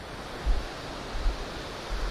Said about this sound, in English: this water is raging